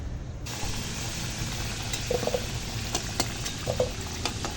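Cut potatoes fry in hot oil for aloo dum, a steady soft sizzle with occasional pops and the clink of a utensil stirring in the pan.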